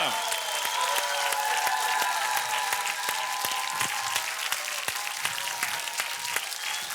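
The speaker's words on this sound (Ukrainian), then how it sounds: "Давайте поаплодируем обеим артисткам." A studio audience applauds the singers with steady, dense clapping that carries through without pause, the sound of a televised vocal contest.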